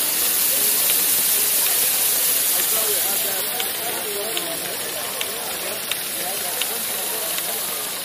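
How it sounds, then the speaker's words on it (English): Steady broadband hiss of running model steam engines at an expo, continuous and fairly loud, with faint mechanical ticks and murmuring voices underneath. "There's steam engines."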